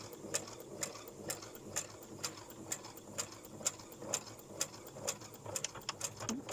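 A Uten 2685A sewing machine stitching fabric ruffles at a slow pace, its needle ticking in a steady mechanical rhythm with soft motor hum, close and fairly quiet.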